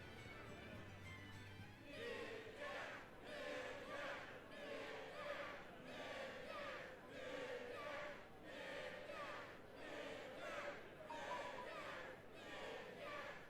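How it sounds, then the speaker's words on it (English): A large crowd in Tales of Berseria cheers and shouts continuously in steady rolling waves, loud and sustained with no single voice standing out. "Listen to those cheers."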